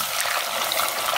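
A large piece of chicken for chicken nanban goes into hot frying oil in a tall three-ply pot, giving a brief, bright, continuous sizzle with no talking.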